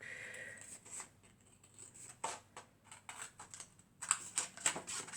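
Scissors snip through envelope paper to trim off the surplus, a few faint, quiet cuts spread out and then a quicker run of crisp snips near the end, with no talking.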